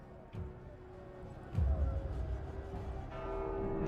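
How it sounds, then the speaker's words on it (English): A bell rings out in The Walking Dead: Saints and Sinners, a VR zombie survival game, with a steady tone sustained under ongoing game sounds and a low thump partway through. "Who the fuck rang the bell?"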